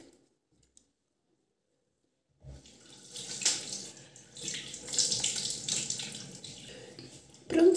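A bathroom tap runs while someone washes an oily-skinned face with a facial cleansing oil. After a couple of seconds of near silence, water gushes steadily and splashes, fairly close and moderately loud, with no talking.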